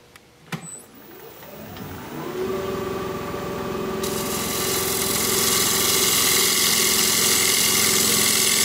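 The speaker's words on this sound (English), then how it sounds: "We're going to be turning at 1300 RPM, 5/8 inch bowl gouge" A wood lathe spins a bowl blank at 1300 RPM while a 5/8 inch bowl gouge cuts it, a steady motor hum that rises in pitch as it gets up to speed, then a loud, continuous, even drone.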